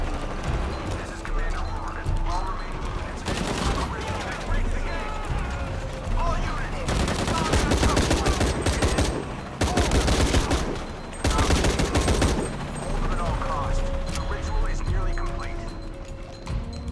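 Gunfire in Shadow of the Tomb Raider, loud bursts of rapid shots in several clusters over busy game sound and music, with someone talking at times.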